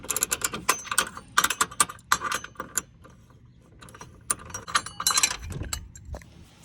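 Metallic clinks and rattles of a tool working loose a 17mm bolt and bracket at the rear of a 2020-2024 Toyota Highlander, in uneven bursts of close taps and scrapes with quieter pauses between.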